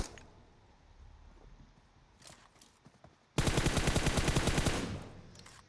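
Automatic gunfire in the mobile game PUBG Mobile Metro Royale: a loud, rapid burst lasting about a second and a half, after a stretch of quiet shuffling movement.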